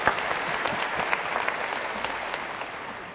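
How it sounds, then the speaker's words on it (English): Audience applause at the Jamestown 400th commemoration, a dense, steady burst of clapping from a crowd that holds at an even level for about three seconds with no talk over it. "Applaud for Eagleburger"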